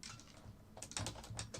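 A computer keyboard clicks with a quick run of light keystrokes during live futures trading, faint and close, with no talk.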